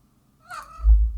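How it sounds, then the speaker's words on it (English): Azzy, a pet cat, gives a single short chirp, fairly close and clear, followed by a low rumble of handling noise. "chirping and saying hello."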